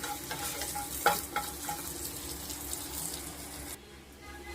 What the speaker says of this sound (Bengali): আমি 3টে শুকনো লঙ্কা আর এই রসুন কোয়াগুলো যে রেখেছিলাম এগুলো এর মধ্যে দিয়ে ভেজে নেব